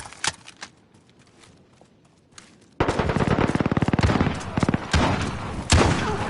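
Rapid automatic gunfire in a Call of Duty match erupts after a quieter stretch of scattered shots, a loud, dense burst of rattling rounds with a few heavier blasts near the end.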